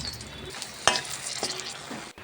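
Four dried red chillies sizzle in mustard oil left over from frying fish in a kadai, a steady broadband crackle with a sharp clink near the start of the second second and a softer one after.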